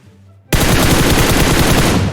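Sudden burst of dense, rapid automatic gunfire from the mobile battle-royale game PUBG Mobile erupts after a half-second of quiet and keeps going loud and unbroken to the end.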